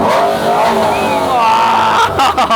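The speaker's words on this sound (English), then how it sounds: "I wanted like a natural aspirated V12 For the noise, sound." A loud naturally aspirated V12 engine in a Ferrari Roma revs hard nearby, its pitch climbing and falling through a couple of throttle blips.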